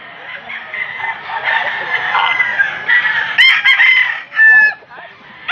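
A White Hatch gamefowl rooster crows several times at a busy pet market, with loud, rising calls over a steady crowd murmur and people talking nearby.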